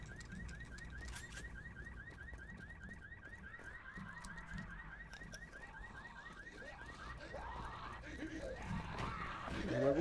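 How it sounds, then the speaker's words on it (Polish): A car alarm sounds inside the video game Dead Island Riptide, with a steady, rapidly repeating electronic whoop over ambient game noise, some faint voice-like sounds, and rising rumble toward the end. "Na górze gdzieś ten alarm jest."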